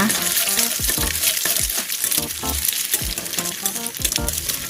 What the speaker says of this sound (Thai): เอาไข่ลงไปเจียวค่ะ